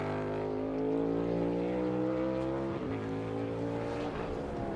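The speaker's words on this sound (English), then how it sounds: "we see Chase Elliott with good speed so far in this lap" A NASCAR race car from the Kwik Trip 250 at speed on a lap, a loud sustained engine roar with steady harmonic tone that shifts slightly in pitch as it passes.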